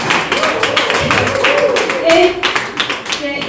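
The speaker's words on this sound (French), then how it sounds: "On l'applaudit." An audience applauds in a steady wash of clapping, with voices and speech mixed through the sound.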